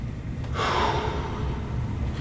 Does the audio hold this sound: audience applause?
no